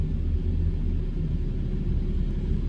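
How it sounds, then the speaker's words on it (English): A Ford Lightning factory race truck with a forced-induction engine, running on race gas at a car show, gives off a steady, loud low rumble that holds evenly throughout, with no voices. "If you didn't know, that's a Ford Lightning."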